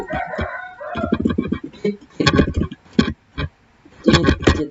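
A rooster crows and chickens cluck in bursts with short gaps between, close and fairly loud, no talking.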